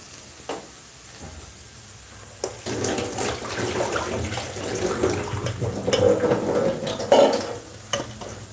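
Running water pours steadily from a kitchen tap while chopped banana flower is drained, with a continuous rushing wash that swells louder toward the end, punctuated by occasional clanks of a strainer or vessel, and no voices.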